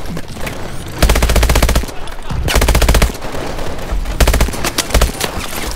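Call of Duty: Advanced Warfare gameplay is filled with loud machine-gun bursts and gunfire. Bullets fly past in rapid, dense volleys, with short gaps between the bursts.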